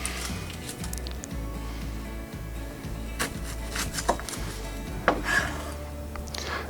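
A kitchen knife cuts through an onion on a board, topping and tailing it, with a few sharp chops standing out over steady low background hum.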